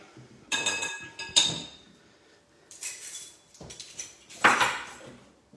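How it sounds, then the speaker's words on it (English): Vanilla paste being whisked through egg whites in a bowl for amaretti biscuits: short bursts of metallic clinking and scraping of the whisk against the bowl, separated by quiet pauses. No voices. "just whisk that through the egg whites to distribute it nice and evenly"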